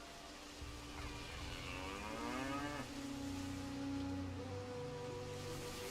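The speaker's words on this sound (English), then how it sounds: "I heard a cow, though." A cow in the ancient-Roman strategy game Anno 117 gives one drawn-out, low moo over a soft ambient bed, fairly quiet and with no voices.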